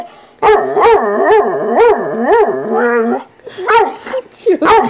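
Dog giving a run of drawn-out, howling barks and yips, close and loud, with rising and falling pitch in a quick rhythm, pausing briefly before a few more short barks.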